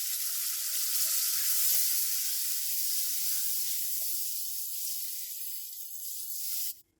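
Tomato paste hitting hot fried biryani masala in a pot for Sindhi biryani, a loud steady hiss that fades slowly over several seconds before cutting off, close and alone.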